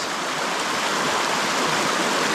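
Creek water rushes through small rapids in a steady, dense, close roar with no breaks and no voices.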